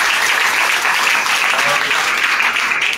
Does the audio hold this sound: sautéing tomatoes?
no